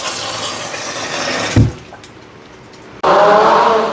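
Running water with salt splashes and pours steadily over broccoli, pausing briefly before a louder gush of water resumes close by.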